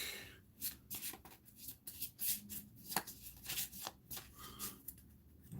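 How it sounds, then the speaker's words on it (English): A deck of cards is shuffled during a tabletop play-through of D&D Tomb of Annihilation, giving a series of close, crisp riffling and slapping bursts in an uneven rhythm, with no talking. "Now I'm going to shuffle the deck."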